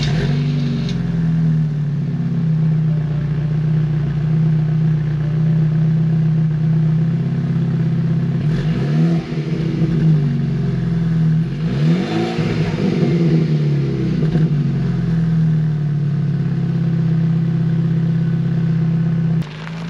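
A BMW 328i fitted with an AWE Touring Edition axle-back exhaust idles with a deep, steady drone, then revs up and settles twice, near and loud throughout.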